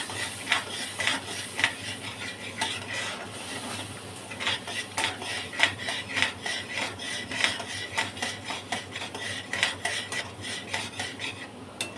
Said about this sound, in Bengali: আদা রসুন পেঁয়াজ কাঁচা লঙ্কা টমেটো পেস্টটা দিয়ে দিলাম, ভালো করে কষাবো।